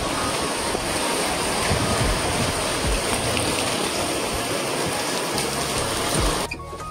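Rain falling outside a building complex, a steady dense hiss of rainfall that stays continuous and even, moderately loud, with no voices, easing slightly at the very end.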